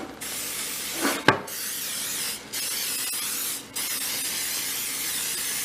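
A wide spray nozzle hisses out oil in long, steady bursts, briefly cut off a few times before spraying again, close and fairly loud.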